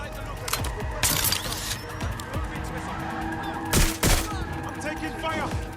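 Gunfire in the video game Watch Dogs Legion, with scattered shots and two loud bursts over a steady game background.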